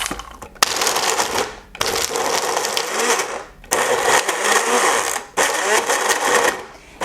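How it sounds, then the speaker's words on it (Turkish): A smoothie blender whirs loudly in several bursts, mixing an apricot ball mixture and stopping briefly between runs, its motor grinding and rattling as it pulses. "Şimdi smoothie blenderımı çalıştıracağım"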